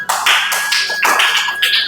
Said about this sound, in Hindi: इनके लिए एक अच्छा सा ताली बजा दें